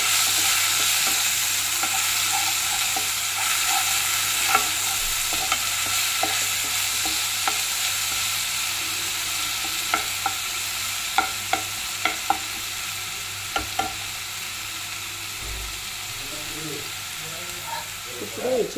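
Coriander, curry leaves, ginger garlic and green chillies fry in oil over a medium flame, a steady close sizzle with occasional stirring clinks and pops.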